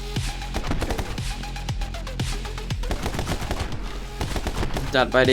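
Rapid gunfire in the video game My Friend Pedro, a dense burst of repeated sharp shots with a loud, near rattle throughout, under brief speech from a player.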